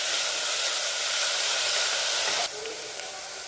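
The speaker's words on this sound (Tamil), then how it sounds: "எடுத்து வச்சிருந்த வெங்காயத்தையும் போட்டுக்கலாம். இதை இப்போ நல்லா வதக்கிக்கலாம்." Onions sauté in a hot pan for a bottle gourd and prawn kulambu, a loud, steady sizzling hiss that drops slightly in level partway through.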